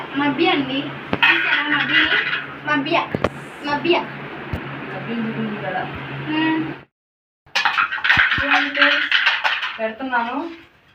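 Metal cooking pots being handled and clattered in a village kitchen while dumplings are made, with loud clinks and scrapes running through most of the clip and people talking over them.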